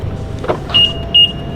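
A 2024 BMW G87 M2 unlocking with a phone digital key gives two short electronic chirps or actuator whirs in a row, set against a quiet background with a faint low hum.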